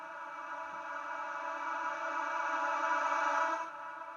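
A reversed vocal sample drenched in long reverb, used as a riser in a deep house track: a sustained, smeared tonal wash that swells steadily, then drops off abruptly near the end, heard alone.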